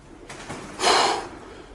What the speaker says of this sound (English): Look, there's quite a lot of pigeons in here.